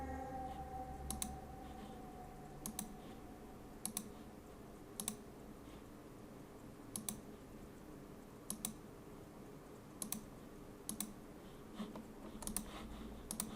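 Computer mouse clicks sound one at a time in a quiet room while arrows are added to a line in Vectorworks software, each sharp, faint and close, spaced irregularly about a second or two apart.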